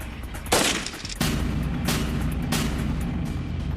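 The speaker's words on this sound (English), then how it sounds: "Next, the AK-47." AK-47 rifle gunfire: a sharp report followed by a sustained burst of rapid shots that carry on to the end, loud and close with no talk.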